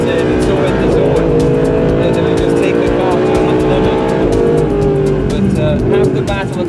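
A car slides sideways through a corner on a hot lap on a race track, its engine roaring loud and close with shifting revs the whole way, while people talk over the noise from inside the car.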